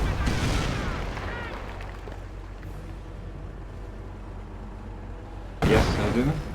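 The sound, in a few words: mortar shells hitting, Company of Heroes video game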